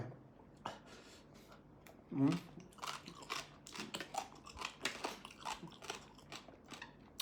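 Crunchy spicy green papaya salad (som tam) being bitten and chewed, a run of close, crisp crunching bites repeating irregularly over several seconds with no talking.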